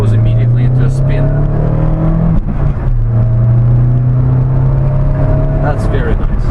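A 1991 Toyota Starlet GT Turbo engine pulls hard under acceleration while driving, a loud steady drone rising in pitch with a brief dip around a gear change; someone talks over it throughout.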